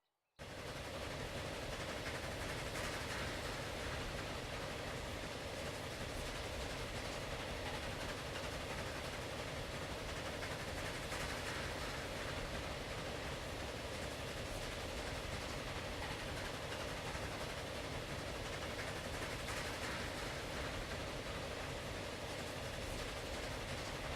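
A train running in the video game Transport Fever: a steady, continuous mechanical rumble with a broad rushing hiss that holds at an even level throughout, with no pauses or talk.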